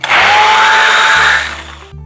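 An immersion blender whirs loudly and steadily through ginger, red onion and jalapenos for about a second and a half, then winds down and stops.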